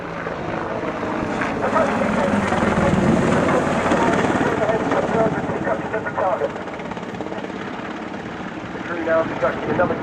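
Apache attack helicopter making a low 180-degree return run at the RIAT 2014 airshow, a loud, continuous rotor thrum and turbine whine that rises and falls, with an announcer talking over it.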